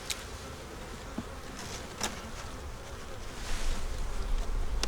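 Honey bees at a winter hive fed on dry sugar make a dense, continuous buzzing hum, close and fairly loud, with a few individual bees zipping past the microphone and no talking.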